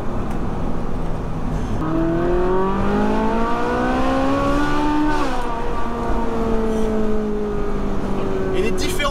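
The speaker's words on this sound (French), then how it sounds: "les différences de tonalité qu'il y a dans la voiture, qu'il y a avec cette triple sortie d'échappement qui sort juste derrière, c'est hallucinant" Ferrari 458 Spider in race mode with a triple exhaust, heard from inside the open car on the road: a loud, continuous engine note rising through the revs and dropping on a gear change, with wind rush and someone talking over it.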